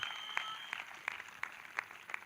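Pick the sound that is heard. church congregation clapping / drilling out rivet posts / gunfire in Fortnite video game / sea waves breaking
church congregation clapping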